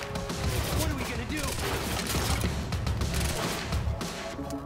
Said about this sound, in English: that guy's got a machine gun